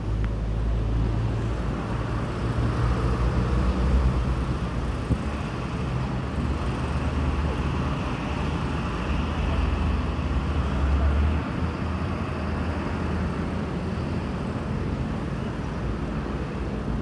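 Bus, a Jetbus 3 body, pulling away from the Palembang terminal, a steady low engine drone and road rumble throughout, moderately near with no voices.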